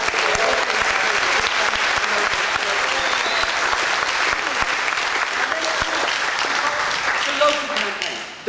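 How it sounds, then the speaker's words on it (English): Sustained applause from a large audience at the opening plenary of a union activists' conference, steady and dense throughout with a few scattered voices in the crowd. "which I think needs a massive round of applause"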